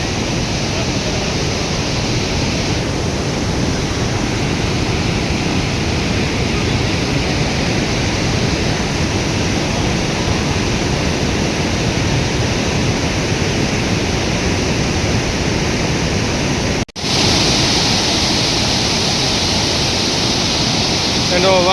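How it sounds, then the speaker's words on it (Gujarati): A waterfall near a bridge in Quebec City gives a continuous, loud broadband roar of pouring water that holds steady throughout, with one brief dropout near the end. "એનો અવાજ તો જુઓ પાણીનો. આ ધોધ"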